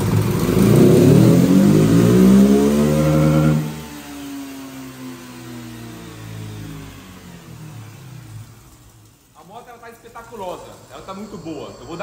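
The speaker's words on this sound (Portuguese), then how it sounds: "Eu vou dar uma volta com essa moto e ela vai cortar a quinta" A flex-fuel motorcycle engine running on diesel revs up loudly and close, then drops to a lower idle before picking up again with uneven, rising engine tones.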